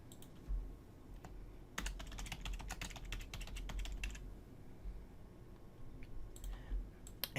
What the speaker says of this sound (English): So I can just type in Google